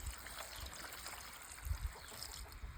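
Water trickles and pours softly into an idli pot holding cut jackfruit, a faint, steady splashing with low gurgles, close by and heard on its own.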